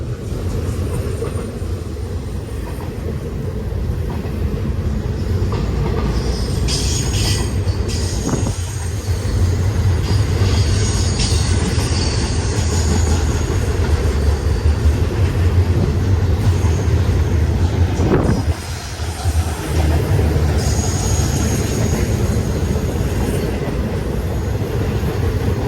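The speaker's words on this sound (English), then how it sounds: "High priority Z train." A high-priority Z freight train with five locomotives hauling refrigerator cars and trailers rolls past at Silverwood, a loud continuous rumble with rail clatter and faint wheel squeal throughout.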